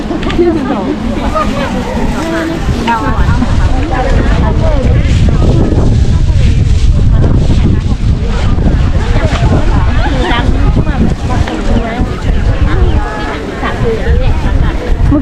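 Strong wind buffets the microphone at a morning market in Xieng Khouang, Laos, a loud, continuous roar and rumble lasting the whole stretch, with voices partly buried underneath.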